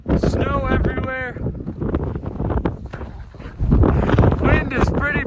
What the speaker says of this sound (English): Wind is pretty brutal up here